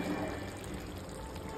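Water poured into a pan of chicken curry as it cooks, a steady continuous splashing pour with no voice over it.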